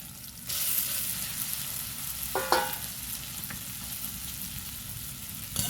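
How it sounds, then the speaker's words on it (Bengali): Boiled potatoes fry in a spice masala with a constant, moderate sizzle and a couple of brief utensil clinks partway through. No one speaks. "আলুটাকে ভালো করে কষিয়ে নেব।"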